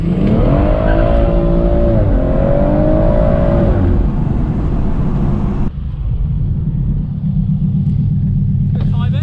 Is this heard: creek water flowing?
no